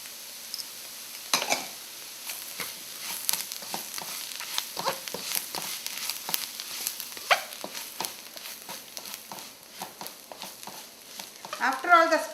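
Spices for a Kerala fish curry with garam masala stirred in a pan, a soft continuous sizzle broken by frequent scraping taps of a spoon against the pan, close and fairly quiet.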